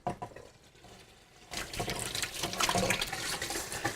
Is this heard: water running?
yes